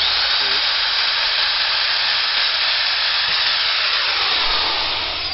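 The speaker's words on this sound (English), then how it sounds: "now this little hole is going to go all the way through. Smaller bit, this is the pilot hole" Drill with a small bit boring a pilot hole through a wooden swing-set piece, a steady, loud whirring grind that runs unbroken for several seconds before easing slightly at the end.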